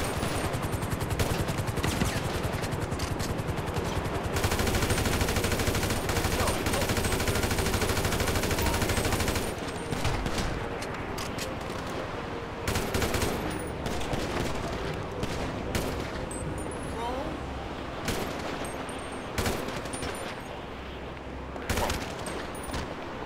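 Bursts of automatic gunfire in the video game Grand Theft Auto V, rapid loud shots in long runs and shorter volleys across the whole stretch, dense and close.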